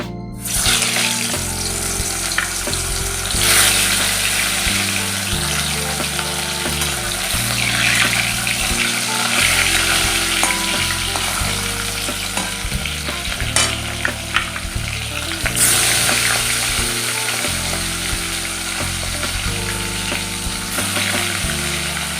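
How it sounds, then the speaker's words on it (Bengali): Roopchand fish fries in hot oil with loud, continuous sizzling and crackling, close up, steady for the whole stretch with a few scrapes and bursts, no speech. "তেল খুব ভালো মতো আমি গরম করে নিয়েছি এবারে মাছগুলো ভেজে নেবো"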